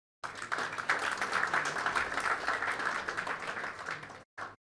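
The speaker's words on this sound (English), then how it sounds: "and really they need a round of applause." Audience applause at an awards function, a dense, even wash of clapping that runs for about four seconds, stops abruptly, then gives one brief final burst.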